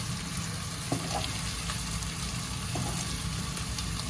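Onions softening and turning light brown sizzle in a pan, a constant, even crackle with faint clicks, no voices over it.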